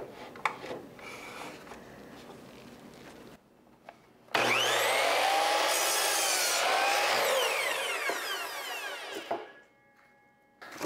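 A saw cuts through scrap wood pieces for a DIY bench, a loud, steady rasping stroke lasting several seconds after quieter handling noises, then fading to silence.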